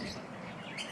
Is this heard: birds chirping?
yes